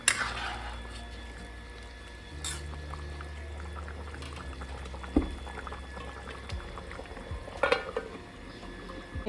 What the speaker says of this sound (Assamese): এতিয়া মানে পূৰা উতলি আছে